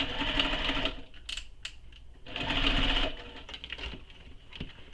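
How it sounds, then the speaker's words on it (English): A sewing machine joins a tote bag's exterior to its lining in two close bursts of rapid stitching, with a short pause and light clicks between them. "now we're going to sew our exterior to our lining with the seam allowance given in the pattern"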